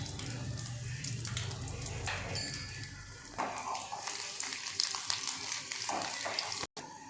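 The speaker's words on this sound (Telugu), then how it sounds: "ఈ విధంగా నూనె కాగినాక ఎల్లిపాయలు వేసుకోవాలండి." Onions sizzle and crackle in hot oil in a home kitchen, a steady frying hiss with bursts of louder spitting and a brief stir.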